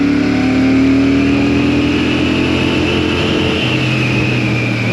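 A loud Royal Enfield Shotgun motorcycle engine drones steadily and rises slightly in pitch as it accelerates on a national speed limit road, heard up close with constant rushing noise throughout.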